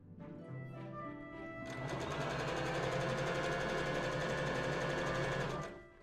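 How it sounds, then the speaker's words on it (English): A sewing machine runs a line of stitching across two braid straps for a floral summer top, its steady whirring motor holding close and loud for several seconds before winding down. "I pinned where the end of the braid strap will be and add a line of stitching across both braids"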